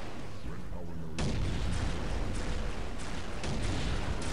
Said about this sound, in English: I think that was the sound of my tank getting taken out before he took me out there.